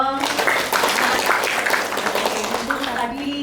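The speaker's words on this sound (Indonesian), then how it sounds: "Keren, tepuk tangan dong." At a university biology education student talk show, the audience bursts into lively, dense clapping mixed with cheering voices, loud at first and then tapering slightly as it continues.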